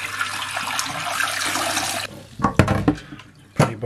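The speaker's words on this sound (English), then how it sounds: "rinse them off." Amiga 500 keyboard keycaps rinsed under a running tap, a steady rush of water that stops partway, followed by wet clattering and handling of the keys in a sink.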